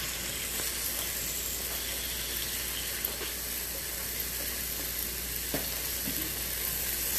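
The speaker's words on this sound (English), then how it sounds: "we're going to add our garlic. Put all the garlic in there." Garlic sizzles and fries in a hot pan, a bright continuous crackling hiss with a few small pops and clinks, close and steady with no talking.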